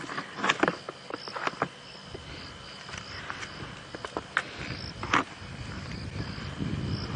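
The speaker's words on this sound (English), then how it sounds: "You can hear a mole cricket going in the grass." Outdoor night ambience on a safari drive with a steady faint mole cricket trill in the grass, scattered chirps, and light rustling nearby.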